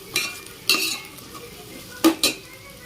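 Tomatoes and onions sautéing in a pan, heard as a few separate utensil scrapes and clinks against the pan over a faint sizzle, in short bursts with quiet gaps between them.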